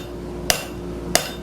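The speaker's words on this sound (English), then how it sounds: "We're going to hammer the other side as well" A hand hammer strikes metal stock, flattening one side while resizing it. Two sharp, ringing blows land about two-thirds of a second apart over a low steady hum.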